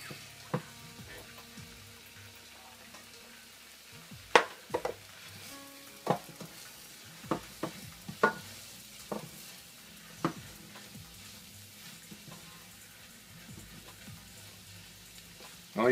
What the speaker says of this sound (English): This is going to soak up all the butter and help make our makeshift roux.